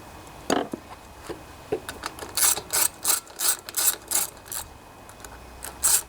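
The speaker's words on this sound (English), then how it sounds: "It's a good idea to tighten these two nuts up first before you tighten this one." A hand ratchet clicks as nuts are tightened on a Honda HRB 215 lawnmower with a plastic deck, close bursts of quick pawl clicks in short strokes, alone without speech.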